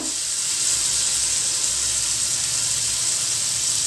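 Chopped tomatoes with salt fry in a pan for a tomato pickle, giving a steady, loud, even sizzle and hiss that continues without a break and with no voices.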